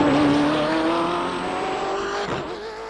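BMW M8 GTE race car in iRacing braking down into the corkscrew, a loud engine note falling in pitch as it slows, with tire noise and a short scrubbing squeal.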